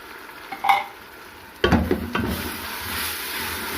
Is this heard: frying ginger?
yes